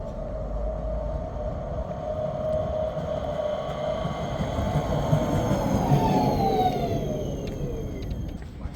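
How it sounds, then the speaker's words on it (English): A Prague tram pulls up to a stop, a steady rumbling roll with a whining tone that falls in pitch as it slows, loud and close over street noise. "our tram pulls up for us to board"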